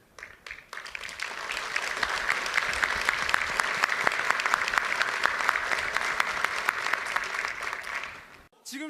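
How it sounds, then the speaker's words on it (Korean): Dense applause from an audience at a Korean conservative political rally: steady, close clapping that swells quickly and holds for about eight seconds before cutting off. "여러분에게 아낌없는 격려의 박수를 보냅니다"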